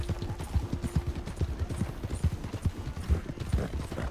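Horse hooves clip-clop steadily in a game around the Blackwater stable, a quick regular beat of close footfalls with faint mechanical clicks in the background.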